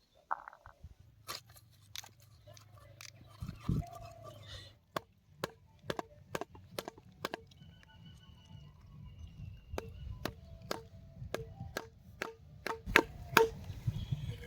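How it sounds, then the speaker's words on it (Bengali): A large fish head is hacked apart with a heavy blade, a series of sharp, loud chops coming in an irregular rhythm, close up, with a low rumble beneath and no talk. "প্রথমে আমরা মাছের মাথাটা কেটে নেব।"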